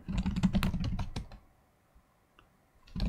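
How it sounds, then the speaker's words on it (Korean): Someone types on a computer keyboard in a quick burst of sharp, close clicks, pauses into near silence, then resumes typing at the end. "키보드가 이렇게 안 눌리지?"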